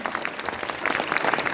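Applause from a crowd, a dense steady patter of clapping that swells slightly toward the end.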